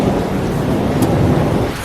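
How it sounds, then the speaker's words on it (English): A thunderstorm rumbles around a lakeside resort on a dark early afternoon, a steady low roar of thunder mixed with rain and wind noise, loud and continuous without speech. "as you can hear, it is thundering"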